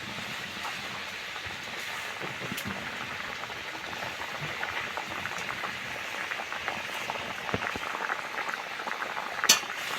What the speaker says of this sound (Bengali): টকটা ফুটে গেছে, মাছগুলো দিয়ে দেব।